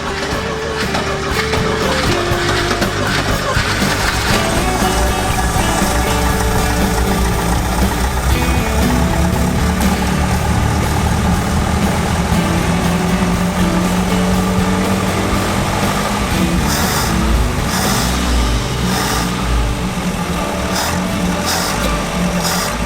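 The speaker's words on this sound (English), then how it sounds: "So that's actually idling now." A decades-old barn-find engine idles roughly and loudly up close, a continuous rumbling chug with uneven mechanical rattle running throughout.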